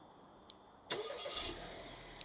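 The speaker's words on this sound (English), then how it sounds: "the vehicle's now remote started" An Acura RDX started remotely by key fob: a faint click, then the engine cranks and catches, settling into a steady idle hum, with another short click near the end.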